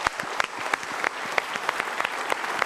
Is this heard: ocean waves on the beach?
no